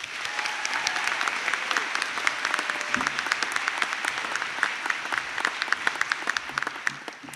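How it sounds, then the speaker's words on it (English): Sustained applause from a graduation ceremony audience for prize winners, dense steady clapping filling the hall for several seconds with no talk over it. "And can we have a round of applause for all our prize winners?"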